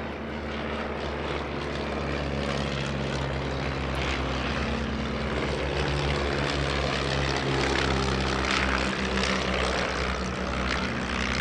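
A vintage 1930s Belgian training and touring propeller aeroplane flying at a vintage airshow, its engine a loud steady droning hum held for the whole stretch, no voices.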